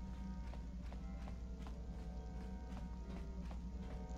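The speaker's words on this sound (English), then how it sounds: "You hear the soft patter of footsteps behind you again." Soft footsteps patter steadily behind the player in Star Wars: Knights of the Old Republic on Tatooine, a regular walking rhythm of light steps over a constant low game ambience, with no talk.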